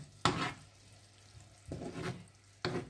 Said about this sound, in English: we are going to give it a stir and cook it for five more minutes